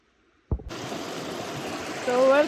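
After a sharp knock, a steady broadband rush of flowing river water at a crossing fills the scene, close and continuous, with a brief tonal voice-like sound near the end.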